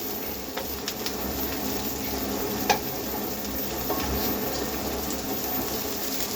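Onions sizzling in hot cooking oil in a pan, a steady close crackling hiss with occasional stirring clinks and scrapes, no talking.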